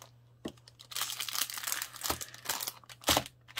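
Plastic packaging around rolls of double-sided adhesive tape, 9 mm and 12 mm wide, is handled at close range, giving quiet crinkling and rustling in short irregular bursts over a low steady hum.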